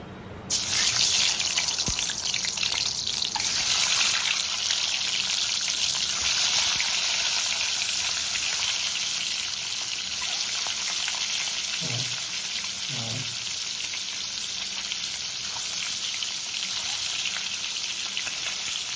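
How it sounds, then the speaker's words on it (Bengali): Eggs frying one at a time in hot oil for an egg korma, giving a steady, loud broadband sizzle from start to finish with a couple of brief low thumps near the middle. "তেলটা গরম হয়ে গেছে, এর মধ্যে এক এক করে ডিমগুলোকে ভেজে নেব।"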